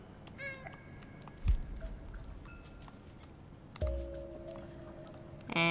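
A cat in the video game Stray gives a short meow amid soft game ambience, with a couple of dull thumps and faint tones in a quiet setting.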